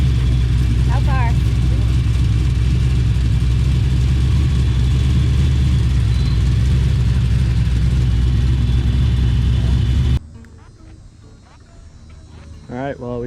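A car engine with a newly installed full exhaust idles with a deep, steady rumble close by, chirping insects in the background, before cutting to a quieter scene with faint sounds.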